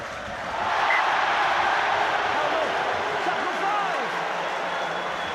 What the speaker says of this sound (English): Widnes fans booing, Castleford fans cheering